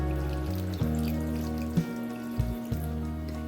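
Jaggery water poured into a simmering ripe-mango pulissery, a soft close trickle with a few light drips and splashes over a low steady hum, no voices.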